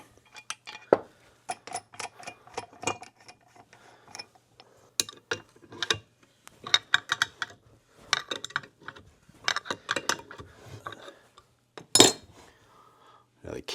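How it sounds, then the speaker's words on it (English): Metal clicks and ratcheting from tightening a nut that pulls the crankshaft through the case of a 2004 Suzuki RM-Z250 engine during teardown, heard as close, irregular taps and clinks with short pauses between, and no talking. "you're going to tighten a nut here, which will pull the crankshaft through the case"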